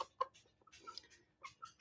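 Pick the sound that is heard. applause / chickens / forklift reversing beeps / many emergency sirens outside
chickens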